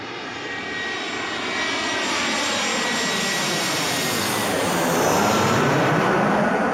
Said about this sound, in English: as the plane comes in